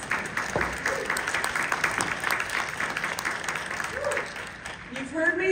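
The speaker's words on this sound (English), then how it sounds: "I think that deserves an applause." A conference audience at a tribal-affairs event with the Secretary of the Interior applauds steadily, clapping spread across a large room at moderate level, with faint voices mixed in.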